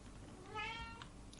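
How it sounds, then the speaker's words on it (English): A house cat meows once in a hallway, a short, faint, slightly rising call heard at a distance over steady background hum. "He's just sitting in the hallway and meowing at the ceiling."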